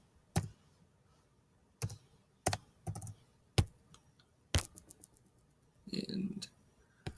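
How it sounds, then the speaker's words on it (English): Keys clacking in separate bursts while a calculation is typed into a graphing calculator during a calculus lesson on volumes of solids of revolution, with single taps and quick double presses spread across the clip and a low voice murmuring briefly near the end. "Let's go ahead and type that in."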